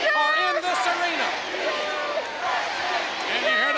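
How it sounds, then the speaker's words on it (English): A capacity arena crowd of about 15,000 fans at a wrestling event in British Columbia, Canada, roars steadily throughout while a commentator speaks over the constant roar. "And you hear this capacity crowd"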